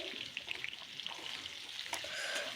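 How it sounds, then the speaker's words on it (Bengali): Potato pieces fry in oil in a wok, a steady close hiss and crackle of sizzling with a faint clink partway through. "এবার আলুটাকে ভেজে নেব লাল লাল করে"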